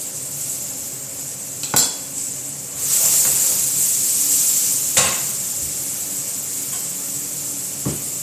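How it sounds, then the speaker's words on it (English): Green tomatoes and garlic sautéing over good heat in a pan: a steady bright sizzle swells in the middle, with a few sharp metallic clanks of utensil against pan, close and fairly loud. "Fried green tomatoes and garlic. You want to saute that on a good heat."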